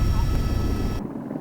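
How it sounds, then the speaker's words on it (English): A helicopter gives off a steady low rotor drone and rumble, loud and close, that cuts off abruptly after about a second. "Reaching those heights has become more achievable with the helicopter."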